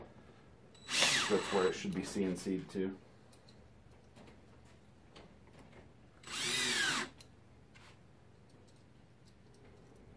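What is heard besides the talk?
power drill driving screws into pinball cabinet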